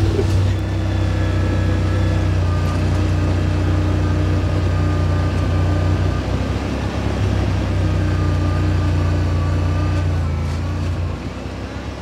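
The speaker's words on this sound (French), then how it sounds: "Là, vous entendez le moteur" A vehicle engine idles steadily and loudly throughout, a constant low drone with faint tonal hum, fading slightly near the end.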